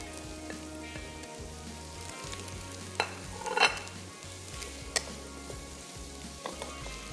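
Capsicum stir-fried in a pan, a steady close sizzle with scraping stirs and a few sharp utensil knocks against the pan.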